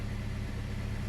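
A 2008 Jeep Compass engine runs steadily with a constant low hum, close and unbroken, with no talking.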